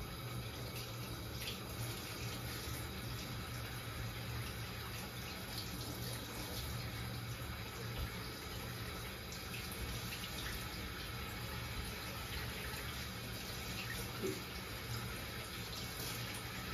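Tap water runs steadily into a sink while mangoes are washed, a continuous close hiss and splash holding level for the whole stretch with no voices.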